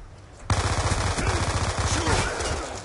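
Automatic gunfire in Call of Duty: Black Ops 2 starts abruptly after half a second and keeps going as a dense, loud, rapid rattle of shots to the end.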